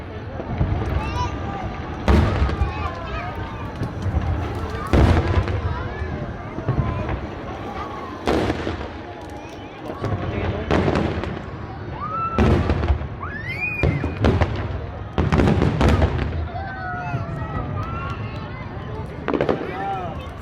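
Repeated sharp fireworks bursts crack out every few seconds at a pyromusical finale, loud and close, with crackling and people talking and calling out between the blasts.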